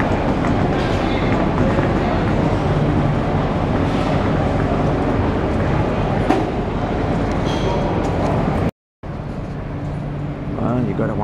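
A passenger train pulls into a Brisbane station, its heavy, steady rumble and rolling rail noise filling the scene up close, broken by a brief dropout near the end, with a voice speaking faintly over it.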